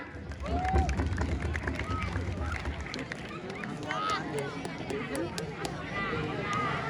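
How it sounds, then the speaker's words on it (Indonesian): Schoolchildren at a morning school activity clap together amid chatter and shouts, a busy mix of hand claps and young voices in a lively room. "Tepuk tangan."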